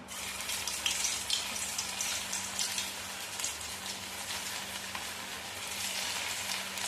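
Dill leaf vadas frying in hot oil in a pan over low gas, a steady, fairly soft hiss and crackle of sizzling that runs unbroken throughout with no voice.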